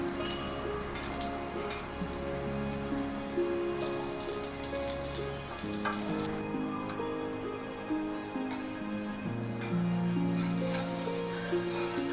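Paneer pieces sizzling on a hot grill pan, a steady crackling spit like rain on a surface with faint ticking, continuous and close under a sustained background of musical tones.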